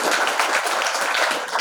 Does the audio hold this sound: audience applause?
yes